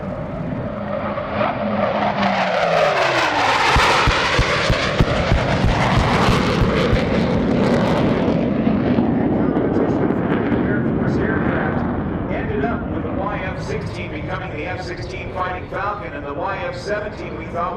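A Northrop YF-17 jet roars in and sweeps past with a rising then falling whoosh, loud and close, fading into a distant rumble as it departs, at an airshow.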